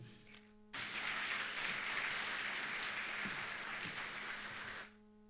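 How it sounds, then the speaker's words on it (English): Applause from an audience fills the room, a steady wash of clapping that holds for about four seconds and then stops. "give her another round of applause"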